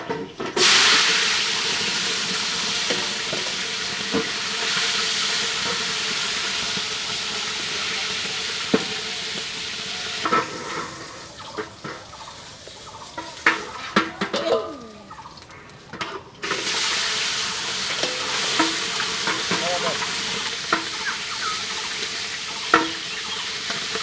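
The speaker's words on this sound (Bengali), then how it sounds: "এখন চিকেন ফ্রাই করে নেবে প্রথমে" Chicken frying in hot oil, a steady close sizzle and hiss that drops away briefly mid-way amid stirring clatter and utensil clicks, then resumes at full strength.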